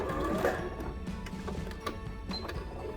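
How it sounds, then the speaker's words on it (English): A sewing machine back stitches on a fabric jewelry pouch with a steady, fairly quiet mechanical whirring and clicking, running continuously with small irregular taps throughout. "I'm going to do 1 more stitch, back stitch"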